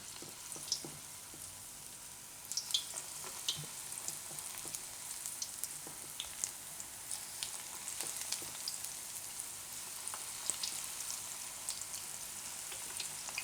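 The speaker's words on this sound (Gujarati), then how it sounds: "તો તેલ આપણું ગરમ થઈ ગયું છે. આમાં આપણે પાડી લેવું આ રીતે." Patra bhajiya batter dropped into hot oil gives a steady, crackling fry with scattered pops and a brighter burst of sizzling partway through, close and continuous, with no talk.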